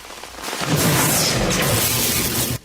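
A thunder sound effect for a lightning strike in a radio ad: one loud, broad rumbling boom that swells in about half a second, rolls on steadily for two seconds, then cuts off abruptly, with no voices.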